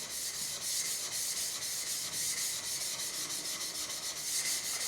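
Back of a blade rubbed steadily back and forth across a sharpening stone, a close, continuous scraping hiss with faint rhythmic strokes while it is trued and polished.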